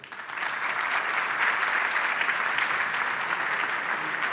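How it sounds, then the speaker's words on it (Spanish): A seminar audience at a cybersecurity event breaks into applause for a speaker, the clapping building quickly and then holding as a full, sustained roar. "Fuertes aplausos entonces para Alfie Ulloa."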